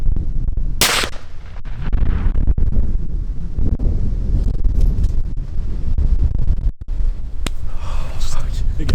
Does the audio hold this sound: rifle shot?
yes